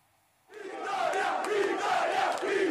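Italian football fans cheering at Wembley for a semi-final, a loud massed crowd roar that swells in suddenly out of near silence and stays sustained with chanting voices.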